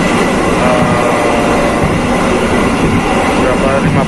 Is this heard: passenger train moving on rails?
yes